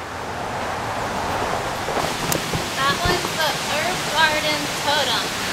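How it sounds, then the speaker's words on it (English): A mountain stream in the Catskills rushes in a continuous, fairly close broadband hiss, while birds chirp in short bursts over the water in the second half. "The stream is right over here."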